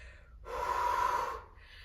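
During sprint interval training with a resistance band, someone takes one heavy, audible breath while recovering from the effort, close and alone over quiet background, lasting about a second.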